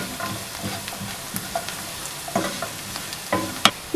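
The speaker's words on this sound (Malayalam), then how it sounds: "അപ്പോൾ അത് ചേർത്ത് കൊടുത്തിട്ട് ഒന്നുകൂടെ ഒന്ന് വഴറ്റിയെടുക്കുക" Cashews sautéing in a pan for butter chicken gravy, soft sizzling under repeated scraping stirs of a spoon, quiet and close with no talking.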